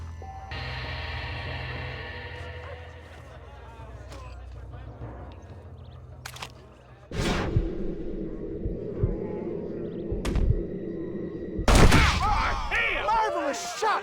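Gunshots ring out in the video game Red Dead Redemption, sharp loud bursts at about seven, ten and twelve seconds, mixed with game dialogue and music in between.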